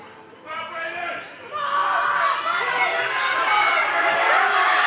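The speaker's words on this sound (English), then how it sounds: "Brayden has the crowd cheering for him." A crowd at a powerlifting meet cheers and screams, the roar swelling and staying loud and sustained after a short quieter start, with a voice talking over it.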